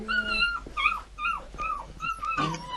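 Puppies whimpering close by, a series of thin, high, wavering whines in short broken bursts, fairly quiet, with no talk.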